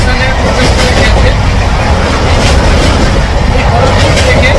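Sealdah Puri Duronto Express (22201) entering Kharagpur station: a loud, continuous rolling rumble of the train in motion with a steady wash of wheel and wind noise throughout.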